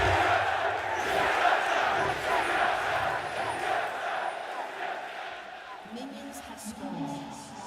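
Arena crowd at the LCS 2019 Spring Split grand finals, Team Liquid versus TSM, roars and cheers in a steady, loud wash with a caster's voice talking over it.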